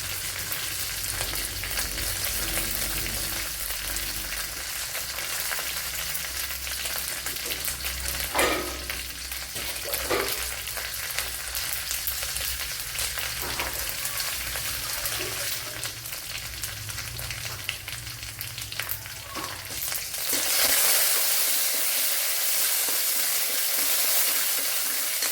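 Bitter gourd and green chillies fry in oil in a pan, a steady close sizzle with occasional stirring clatter, swelling to a louder, brighter hiss near the end as more goes in; no voices.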